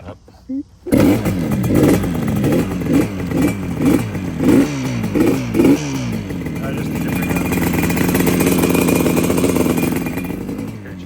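A fully restored 1976 Yamaha RD400 two-stroke motorcycle is cold-started on its center stand with the choke on, giving about eight rhythmic, sputtering bursts before catching and settling into a steady, close idle.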